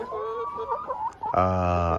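Hens in a poultry building cluck in short, rising and falling tones, then one breaks into a louder, harsher drawn-out squawk near the end, close by.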